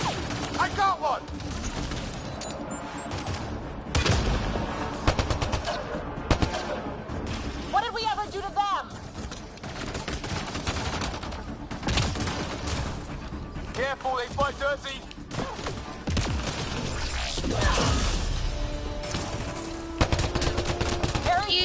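Gunfire and a grenade blast in the sci-fi shooter Mass Effect Andromeda, with bursts of shots and explosions recurring over a dense combat mix, while a voice talks over the action.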